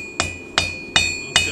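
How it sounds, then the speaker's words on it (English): Four evenly spaced hammer blows strike an eight-inch nail on an anvil while forging a hook, each a sharp ringing metallic clang with a sustained high tone, close and loud. "while I'm hitting the top, the anvil is hitting the bottom."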